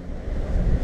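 Wind blows outdoors on a cold, roughly 40-degree day, a steady low rumble buffeting the microphone.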